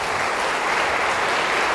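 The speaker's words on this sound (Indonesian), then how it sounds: "Beri tepuk tangan yang meriah begitu." Dense, steady applause from a church congregation at a revival service, many hands clapping together continuously without pause, loud and filling the room.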